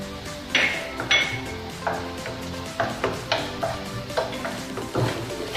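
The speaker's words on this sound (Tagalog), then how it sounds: "pag nagigisa ako, gusto ko lagi, yung nauuna is yung garlic" Garlic sizzles in a pan for vegetable spring rolls, with a utensil scraping and stirring in repeated strokes every half second or so, close and steady, with no talk.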